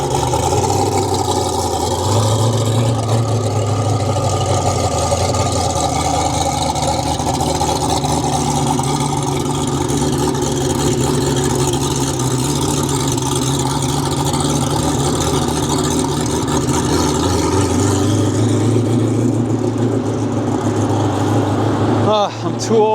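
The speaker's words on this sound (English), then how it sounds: "after chasing down the Hennessey Venom F5" A Hennessey Venom F5 hypercar's engine drones loud and continuous as the car drives past at a motor event, a sustained roar with shifting pitch and people talking underneath.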